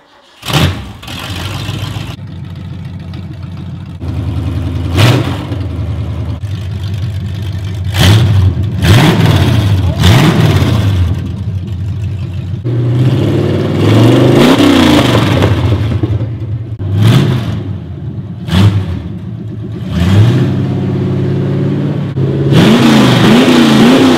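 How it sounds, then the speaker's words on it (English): A loud 1971 Ford F100 engine revs hard again and again in a rev-out contest, with sharp climbing bursts and rumbling idle between them, close and very loud throughout. "about to be doing a rev out contest by himself"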